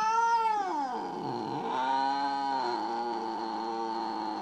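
A jealous cat gives a long, drawn-out caterwauling meow that bends in pitch, loud and close, with no other sounds around it.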